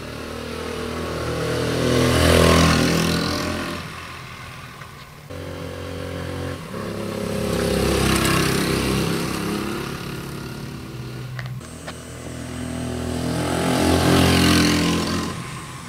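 A 1973 Honda SL125 motorcycle rides up, its small single-cylinder engine swelling loudly and fading three times as it revs and passes nearby, with no speech.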